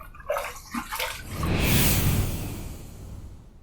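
Water splashes and rushes close by as a face is rinsed after a one-pass shave with a Gillette Super Speed safety razor, swelling to a steady wash midway, then easing off, with no talking.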